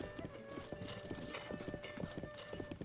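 Horse hooves clip-clopping at a steady trot in Zelda: Breath of the Wild, an even rhythmic patter of close, fairly quiet hoofbeats with no talk over them.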